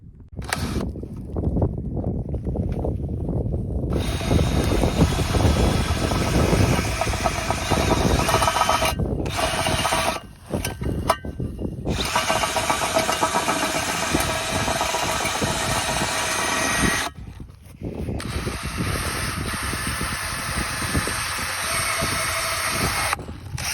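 A power drill driving a hay corer into hay runs loudly and steadily, pausing briefly a few times before revving up again, with a grinding, vibrating tone.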